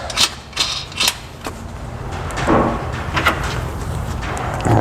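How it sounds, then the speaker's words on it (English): A bolt on a Can-Am half-door bracket is tightened down with a washer and nut: a few sharp metallic clicks, then a steady close ratcheting rasp that runs to the end, with no talking. "we're going to tighten this down"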